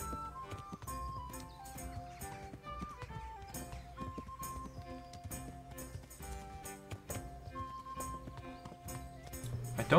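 Hooves clip-clop at a steady walking rhythm in Kingdom Come: Deliverance, set against a game music score with plucked melodic notes.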